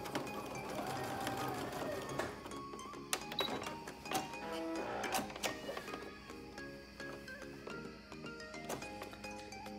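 A sewing machine stitches pajama fabric for a Butterick 5153 pattern, running in a steady mechanical whir broken by sharp clicks and short stops, close and fairly loud with no voices.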